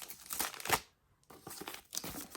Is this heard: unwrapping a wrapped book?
yes